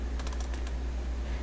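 Quick typing on a computer keyboard while entering a name, a short close run of rapid keystrokes over a steady low hum.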